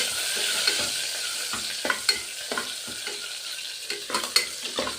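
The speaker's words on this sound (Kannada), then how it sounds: "ಸ್ವಲ್ಪ ಫ್ರೈ ಆಗಲಿವು." Ginger and green chilies frying in a pan, a steady sizzle broken by scraping stir strokes and light clinks of a utensil against the pan, close and clear with no talking.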